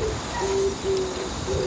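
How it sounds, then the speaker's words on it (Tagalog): An owl hoots in a series of low, steady, drawn-out notes at a moderate distance, repeated about three times over a constant background of crickets and night insects. "May kuwagong umuungol."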